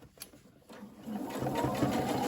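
A sewing machine runs a visible seam on a reversible scrub cap, starting with a few light clicks and then building into a steady, close mechanical whir.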